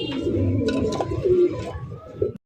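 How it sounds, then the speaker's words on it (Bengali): Pigeons at a market stall offering fancy breeds, cooing softly and repeatedly up close, low rolling coos with a few higher chirps in the background. "1400 টাকায় কিন্তু চমৎকার একজন আপনার সোয়াদ চন্দন কবুতর পাইতেছেন"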